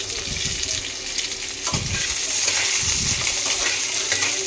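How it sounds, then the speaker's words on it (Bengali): Vegetables fry with a little onion in a hot pan, a steady close sizzle with a few low stirring thumps, no talk. "সবজি ভাজার জন্য অল্প একটু পেঁয়াজ দিয়ে দিচ্ছি"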